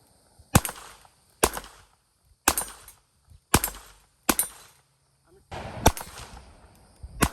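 Sharp, loud gunshots from a Ruger GP100 .22 LR rimfire revolver, about seven reports fired one at a time at a steady, unhurried pace, each with a quick decaying tail. No one speaks.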